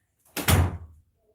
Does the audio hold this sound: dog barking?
no